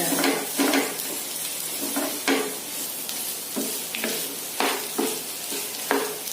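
Potatoes stirred into softened fried onions in a pan fizz steadily at close range, while a spoon scrapes and taps against the pan in an irregular rhythm of sharp clinks.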